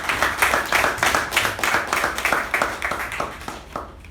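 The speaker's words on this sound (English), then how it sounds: "let us give a huge round of applause for the speaker and the evaluator" Audience at a Toastmasters club meeting applauding for a speaker and evaluator: dense, steady clapping from many hands, close and loud, continuing for about four seconds before easing off slightly.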